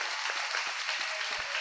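A congregation at a Jain Dashlakshan festival gathering claps in honour, sustained, dense applause from a crowd, with a few deeper thuds scattered through it.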